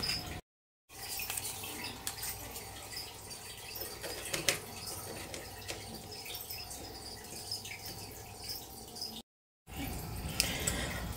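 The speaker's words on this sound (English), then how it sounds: "Got this filled up with some dechlorinated water" Dechlorinated water pours and trickles into a cricket waterer, a steady splashing fill with faint drips, close and continuous, broken by two brief silent gaps.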